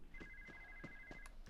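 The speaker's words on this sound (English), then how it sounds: "So now we're gonna go answer the phone." A telephone rings in the video game Petz Horsez 2, a repeated electronic trill heard close and steady under quiet background footsteps or clicks, with no talk.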